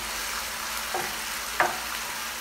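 Mushrooms sauté in a pan, giving a steady, moderate sizzle with two brief scraping stirs near the middle and no voice.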